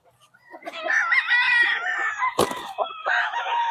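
A gamefowl rooster crows at a gamefarm in San Ildefonso, Bulacan, one loud close drawn-out crow, with a sharp knock partway through and a shorter call after it.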